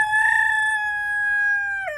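A single rooster crows once, close and loud, a sustained harmonic call that drops off at the end.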